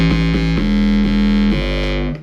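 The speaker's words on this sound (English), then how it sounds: "Distortion from an amp." A gritty square-wave synth bass with saturator and amp distortion pulses in a steady rhythm, loud and saturated with a harsh amplified edge, then fades at the end.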